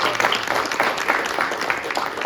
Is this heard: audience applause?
yes